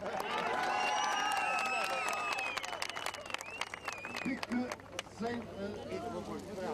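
An audience at a ceremony for Olympians claps, with dense, crisp hand claps and some cheering that thin out toward the end, while a voice talks over the applause.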